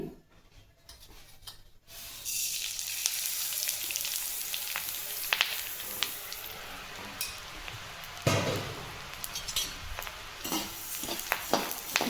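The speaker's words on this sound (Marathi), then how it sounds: "थोडे थोडे करून मी आता दीड किलो धने भाजते" A batch of coriander seeds roasts in a kadhai for black masala. After a quiet start, a steady close sizzle and rustle begins, broken by scraping stirs and a louder burst of crackling toward the end, with no talking.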